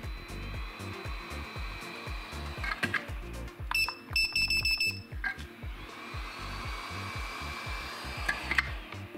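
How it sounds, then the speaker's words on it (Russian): An 8858 hot air soldering gun with adjustable airflow blows steadily with a low pulsing hum, broken midway by a short series of high electronic beeps from the station. "у фена есть возможность регулировать скорость потока от 1 до 10"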